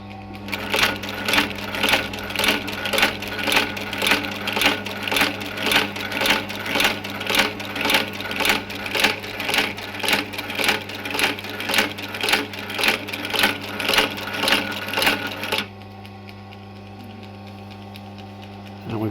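A sewing machine fitted with added tension discs stitches steadily at a fast, even rhythm for about fifteen seconds, loud and close, then stops, leaving a low motor hum.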